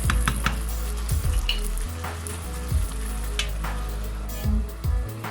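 Bitter melon and prawn sambal sizzles loudly and steadily in a pan, with a few scraping stirs and light clatters of a utensil cutting through the continuous frying hiss.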